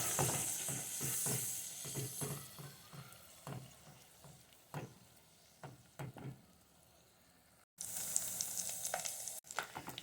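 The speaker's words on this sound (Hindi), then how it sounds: "तो अब हम 1 टेबल स्पून इसमें लहसुन अदरक का शामिल करेंगे। इसे भी लाइट सा ब्राउन करेंगे।" Steady sizzling and crackling of garlic and ginger paste browning in a hot pan, with occasional clinks and stirring scrapes, loud and close throughout.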